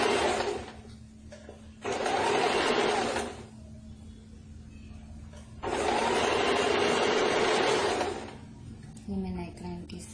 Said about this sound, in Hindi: मैं नेकलाइन के साथ में एक बार रफ सिलाई कर रही हूँ।